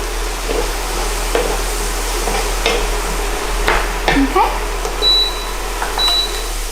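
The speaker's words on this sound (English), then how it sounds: "I love the smell of garlic when it's cooking" Garlic frying in a pan for a vegan Christmas starter gives a steady sizzle close by, broken by scraping stirs and clinks of a utensil, with a low hum underneath and a couple of faint beeps near the end.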